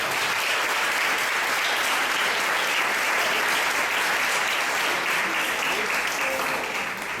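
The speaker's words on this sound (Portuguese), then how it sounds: "dê uma forte salva de palmas ao Senhor." Church congregation gives a strong, continuous round of applause during a sermon, an even, dense roar of clapping that holds steady throughout.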